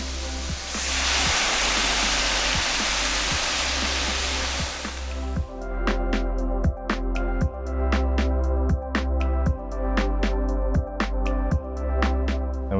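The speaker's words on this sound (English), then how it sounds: "We're going to start to deglaze with our white wine." White wine hits the hot pan of shrimp scampi in a RATIONAL iVario Pro, a loud steam hiss that cuts off after about five seconds. Regular mechanical ticks and clicks follow from the appliance.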